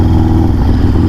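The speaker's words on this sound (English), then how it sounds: "This thing's a rocket, man. What a cool bike." A Sportster motorcycle engine revs hard while riding, a loud, close, steady throaty roar with no talking.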